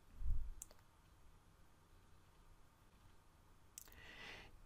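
Computer mouse clicking while closing the Outlook options window: a few faint, sharp clicks, spaced several seconds apart, over quiet background hiss.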